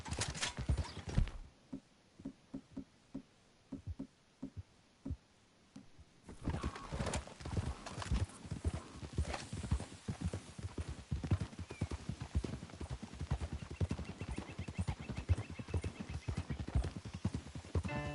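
Horses clip-clopping in Red Dead Redemption, sparse hoof strikes at first, then a denser, louder stretch of hooves with other game ambience, steady and close throughout.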